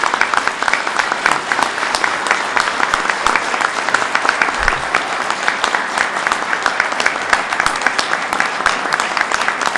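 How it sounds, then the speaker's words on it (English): Sustained, dense applause from an audience at a governor's flood recovery announcement fills the whole stretch, loud and steady with no pauses. "Let's give her another round of applause."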